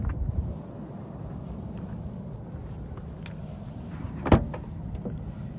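The butterfly doors of a 1990 Toyota Sera move with a low mechanical whir and faint creaks, ending in one sharp latch click near the end.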